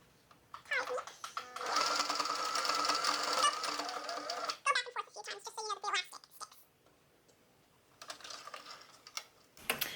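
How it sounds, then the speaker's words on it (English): Sewing machine stitching elastic ear loops onto a fitted fabric face mask, several bursts of close mechanical whirring separated by pauses and handling clicks. "Okay, so I finished sewing both ear elastics on."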